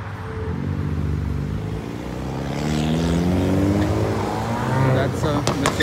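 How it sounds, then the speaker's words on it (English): A Mitsubishi Lancer Evo revs past on the street, its engine tone climbing and falling with sharp exhaust crackles near the end, while a person talks over it nearby. "That's a Mitsubishi Lancer Evo. It's just making that cracking sound."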